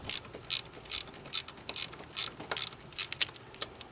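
A ratchet wrench loosens a 10mm bolt on a stud holding a bracket during a Grand Am engine teardown, a steady run of sharp, close clicking pulses repeating about twice a second.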